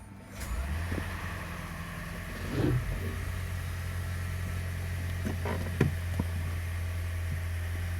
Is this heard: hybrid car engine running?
yes